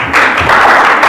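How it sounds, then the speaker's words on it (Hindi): Students clap together to welcome a guest at a government college event, a steady burst of applause filling just over a second, close and loud. "सभी बच्चे तालियां बजा दें।"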